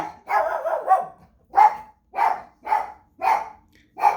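A dog barks six or seven times in a steady series, sharp single woofs spaced about half a second apart, fairly close with quiet gaps between.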